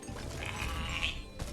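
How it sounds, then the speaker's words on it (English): Sheep bleating in the video game Spyro Reignited Trilogy: a single wavering, mid-pitched bleat rises above a dense layer of game music and effects. "He's a sheep in a costume."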